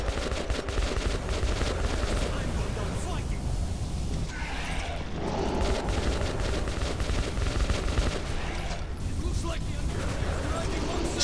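Rapid, continuous gunfire fills the scene in the video game Metro 2033 Redux, a dense and loud stream of shots with little pause, pressed close and constant for the whole stretch.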